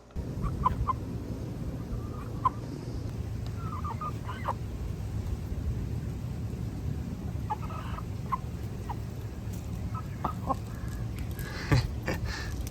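A backyard chicken clucks in short, scattered bursts over a steady low hum, fairly close and moderately loud, with a few sharper calls toward the end.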